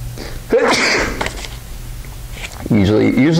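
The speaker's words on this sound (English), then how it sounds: "Uh-oh, I think I'm going to sneeze." A single sneeze bursts out near the start, followed by a brief pause and then a voice speaking at the end.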